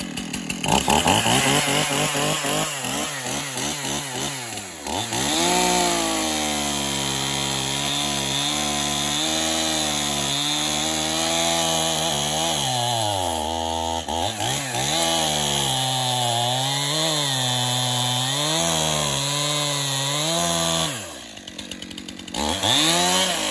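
A chainsaw roars at high revs, dipping and rising in pitch as it bites through English walnut hardwood with a sharp chain, loud and close, with a brief drop near the start and another pause near the end.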